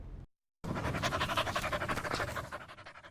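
A dog pants rapidly and steadily, close and breathy, after a brief moment of silence, with no talking.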